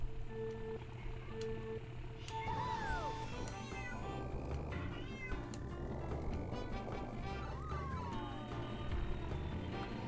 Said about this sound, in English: That was my cat meowing again.